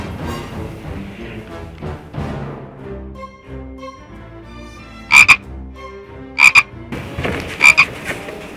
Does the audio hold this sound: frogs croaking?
yes